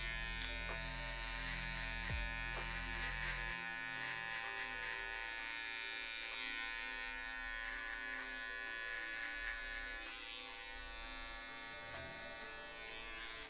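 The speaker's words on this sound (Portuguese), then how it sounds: "Vou usar a maquininha de acabamento aqui, ó, para tirar essa partezinha." Electric finishing clippers buzz steadily while trimming the lower edge of afro hair during a haircut, a continuous close whine with a deeper motor hum at the start that fades after a few seconds.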